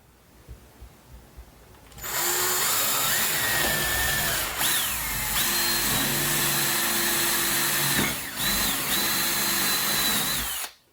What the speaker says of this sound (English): I'm going to drill some holes so that the screws can suck the lamp up